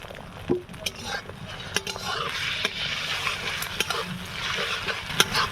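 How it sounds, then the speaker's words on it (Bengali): Scrambled egg fries in oil in a wok while a spatula stirs it over and over, a low continuous sizzle punctuated by scraping strokes and light metallic taps. "এইভাবে খুঁটি দিয়ে নেড়ে নেড়ে আমি ডিমটা ভুজিয়া বানিয়ে নেব"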